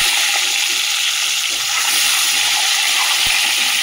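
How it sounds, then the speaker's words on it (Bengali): Eggs sizzle and spit steadily in hot oil seasoned with salt and turmeric, a loud, continuous hissing fry close by, with a brief sharp crackle near the end. "দিয়ে ডিমগুলোকে ভেজে তুলে নেবো।"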